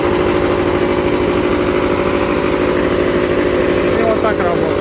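An ISEKI Frontier 115 tracked mini grain combine harvester runs with a loud, constant mechanical drone and rattling vibration, close by and steady throughout.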